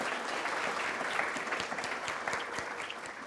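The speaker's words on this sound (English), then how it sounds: "join me for a round of initial applause to this fantastic panel" A conference audience clapping for a panel, a brief dense round of applause with individual claps standing out, steady and fairly close.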